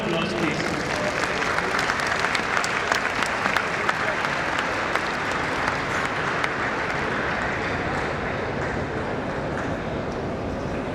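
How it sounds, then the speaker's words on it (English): An audience at an inaugural ceremony bursts into steady, sustained applause, a dense continuous patter of many hands clapping at even strength throughout. "A round of applause, please."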